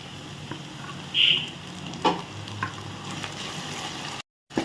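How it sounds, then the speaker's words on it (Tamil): Ginger garlic paste sautés in hot oil for chicken sukka, a soft steady sizzle with a few scraping stirs and clinks, close by, ending in a brief cut to silence. "ஸோ இந்த இஞ்சி பூண்டு பேஸ்ட்டை நல்லா சேர்த்துட்டு நல்லா வதக்கி விடுங்க"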